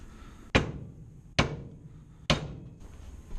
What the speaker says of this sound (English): I'll put a block of wood down and pound it in the rest of the way